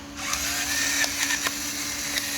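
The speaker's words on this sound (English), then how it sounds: "You should know my pepper grinder by now." A pepper grinder cranks out pepper with a steady close gritty whir that runs unbroken for a couple of seconds, with a few small clicks on top.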